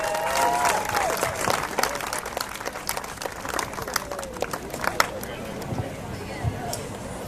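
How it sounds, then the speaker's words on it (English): A crowd claps steadily, applause thinning out toward the end, with some voices and murmuring mixed in underneath. "So let's give them all a big applause."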